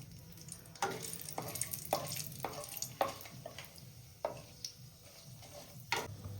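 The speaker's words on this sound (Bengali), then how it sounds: "ফোড়নের জন্য দিয়ে দেবো তেজপাতা, গোটা গরম মশলা, শুকনো লঙ্কা দিয়ে ফোড়নটা আমরা ভালো করে নেড়ে চেড়ে নেব।" Bay leaf, whole garam masala and dried chilli fry in hot oil for a Bengali doi katla tempering. A soft sizzle runs under several sharp scrapes and clacks of stirring.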